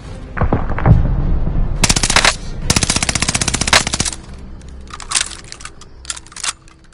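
Automatic gunfire in the Warzone video game comes in rapid, loud bursts, with two long sustained volleys in the middle and shorter scattered bursts toward the end, plus a few lower thuds early on.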